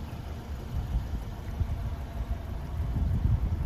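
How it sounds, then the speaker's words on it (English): A 2011 Subaru Forester 2.5 Premium engine idling smoothly, a steady low rumble heard from close by with a slight swell in loudness toward the end, no voices. "The vehicle is currently running, as you can tell, is a smooth running engine."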